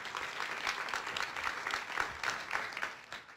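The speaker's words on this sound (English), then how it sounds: "Another round of applause for Andy Dreisman" Attendees at a NASA Parker Solar Probe mission briefing applaud the project manager, a quiet, somewhat distant patter of many hands that holds steady for a few seconds and then eases off.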